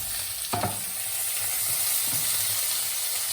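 Food sizzles steadily in a frying pan with a bright, constant hiss while being stirred, with a couple of soft scraping strokes from the utensil, close and without talk.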